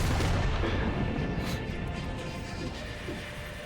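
Missiles exploding in the sci-fi shooter game Metroid Prime 4, a dense, continuous barrage of heavy booms and crashes at steady loudness that tapers slightly toward the end.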